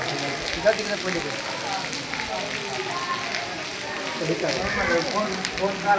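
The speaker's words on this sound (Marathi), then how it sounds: "आणि पाऊस चालू आहे." Steady rain falls near a temple and a suspension bridge, a dense continuous patter with a faint crackle throughout, close and even for the whole stretch.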